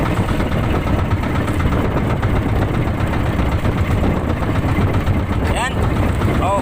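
A small fishing boat's engine runs steadily on a windy sea, a constant low rumble blended with wind noise, with brief faint voices or bird-like chirps near the end.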